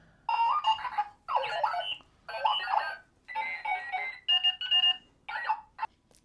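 A Clocky wheeled alarm clock rings in rapid electronic bursts, about seven clusters separated by short pauses, loud and near, ending abruptly.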